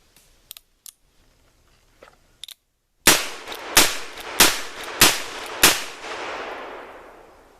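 A Pietta-made Colt 1873 Single Action Army revolver with a 7.5-inch barrel, converted to .44 cap and ball, clicks softly a few times, then fires six loud, evenly spaced shots outdoors, each leaving a ringing echo.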